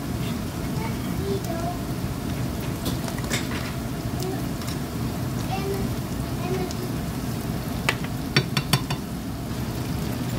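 Onions and pork liver spread sautéing in melted butter. A dense, steady crackling sizzle fills the whole stretch, with occasional stirring scrapes and a few sharper ticks near the end.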